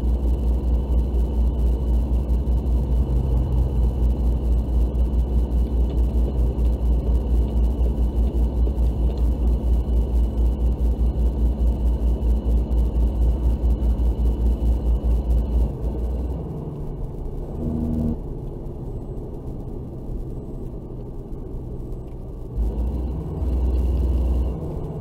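A big rig truck cruises along a road toward Provo, Utah, with a loud, steady engine drone and road rumble. Partway through, the drone eases to a quieter hum, then briefly swells again near the end.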